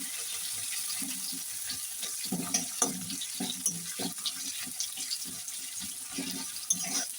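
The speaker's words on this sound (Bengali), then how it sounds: "এই পেঁয়াজটা আমি নাড়াচাড়া করে একটু ভেজে নেব" Onions sizzle and crackle in a pan, with repeated scraping and stirring strokes in an irregular rhythm, close and fairly loud.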